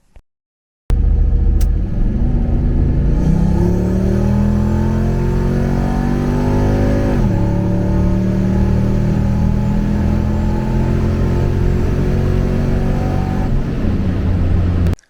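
A turbocharged car on low boost accelerates hard through the gears, the loud engine note climbing steadily, dropping sharply at a shift, then rising again under heavy throttle from close inside or beside the car.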